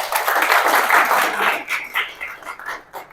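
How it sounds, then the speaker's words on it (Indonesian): Children in a classroom applauding together, a dense burst of clapping that thins out into scattered claps toward the end. "Tepuk tangan."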